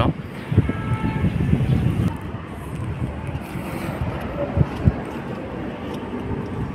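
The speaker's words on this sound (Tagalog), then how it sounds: "ang sarap ng simoy ng hangin" Steady wind rushing outdoors at a golf course, buffeting the microphone with low rumbling gusts, continuous and fairly loud throughout.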